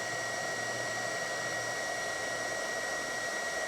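A heat gun melts solder on old car trailer light wires, giving a steady, fairly quiet blowing hiss with a constant fan whine and a low hum throughout, with no talking.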